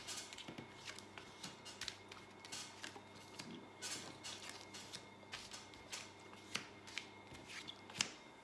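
Tarot deck being shuffled and cards drawn for a thirteen-card spread, giving quick, faint riffling flicks and soft snaps in an uneven rhythm, close and quiet.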